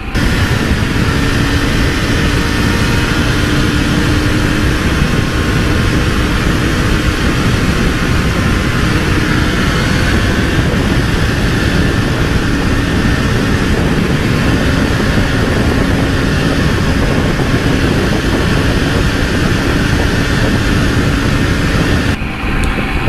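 A Triumph Tiger 900 motorcycle being ridden gives a loud, constant engine drone mixed with heavy wind rush, steady for the whole stretch with no speech.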